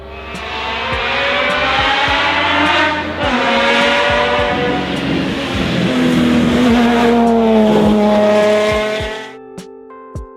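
A McLaren F1 with its BMW S70 V12 engine revs hard, the loud, smooth, high-pitched wail climbing through several gear changes before cutting off abruptly.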